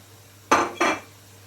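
A utensil stirs coriander and cumin powder into gobi aloo in a pan, making two quick close scraping knocks against the metal in a quiet kitchen.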